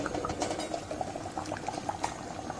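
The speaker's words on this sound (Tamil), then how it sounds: "நல்லா கொதிச்சுட்ருக்கு." Fish curry bubbling steadily in a pot on the stove, a continuous close simmering burble with small popping bubbles throughout, no voices.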